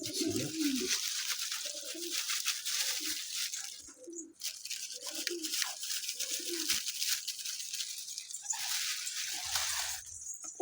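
Soft, low cooing from several birds comes in short repeated phrases against a steady hiss of background noise.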